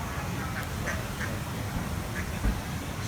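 Ducks in a canal lock give a few scattered quacks over several seconds, fairly faint and set against a constant rumble of water and wind, with one low thud near the end.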